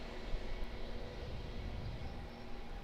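An Airbus A320 jet on final approach at Auckland Airport produces a steady, broad engine roar, distant and even throughout.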